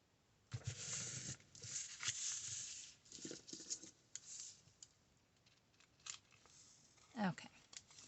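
Scissors snipping and trimming a paper tag during card-making, a series of short, close, crisp cuts that come in bursts.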